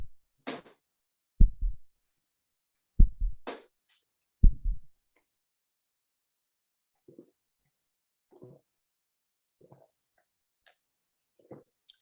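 Sonified heartbeat played back as audio: three loud, low thumping beat pairs spaced about a second and a half apart, then quieter, muffled pulses trailing off, with no voices.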